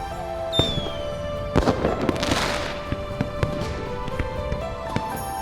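A whistling rise, then a run of firework pops and crackling bursts over a river in a video game, fairly loud and close, over a steady low hum.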